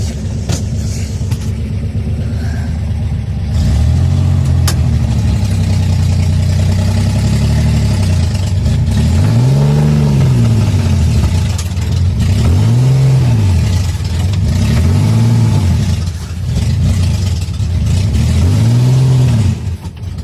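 A Chevrolet Corvair engine, running for the first time with some choke applied, idles loud and close, then revs up and down in several swelling, rhythmic surges.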